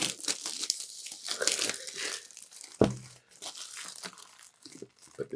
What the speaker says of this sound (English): So I'm just ripping into this one.